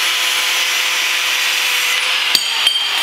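A steady, harsh cutting drone runs continuously up close as an exhaust header pipe for a Predator 212 engine is cut to length, with a couple of sharp clicks near the end.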